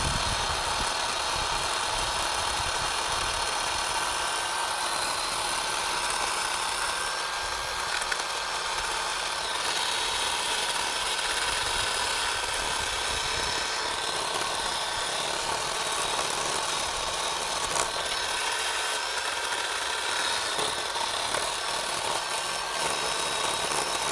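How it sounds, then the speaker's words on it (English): A small mini chainsaw works into the trunk of a tall tree being air layered, its engine giving a steady, unbroken whine and drone that holds at one level throughout. "the mini chainsaw down there to refine that work"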